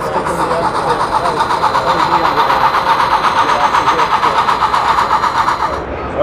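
A Lego toy train's engine sound effect plays from a phone or tablet app at a busy train show, a steady mechanical rumble running throughout amid crowd noise, with people talking nearby.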